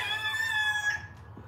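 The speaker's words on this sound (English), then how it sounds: "Let's see if the chickens will eat them." Chickens call while being fed in a backyard in sunny Florida. One short, drawn-out fowl call sounds close and clear, then fades at the end, with no talk over it.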